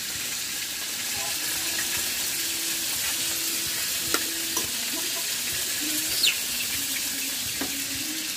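Anduhaw fish sautéing in a home kitchen pan, a steady low sizzle running throughout with occasional light clinks and stirring scrapes, no talking.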